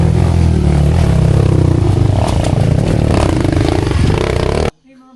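A motorcycle engine runs steadily on a trail ride, a loud continuous drone with rattling clatter, a slight rev near the end, then cutting off abruptly.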